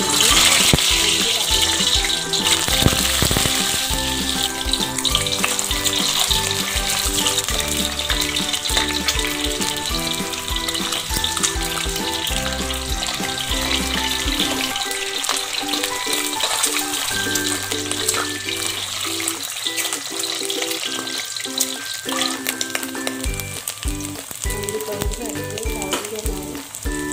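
Boiled eggs fry in hot oil in a kadai with a loud, steady sizzle and crackle throughout. Occasional sharper spits and pops break through, and no one speaks.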